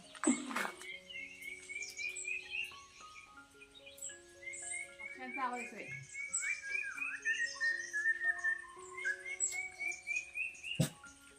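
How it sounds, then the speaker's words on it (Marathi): Birds chirp and tweet throughout in a rainy village setting, bright whistled calls overlapping one another, with a couple of sharp knocks in the background. "पक्ष्यांचे आवाज बघा किती छान येत आहेत"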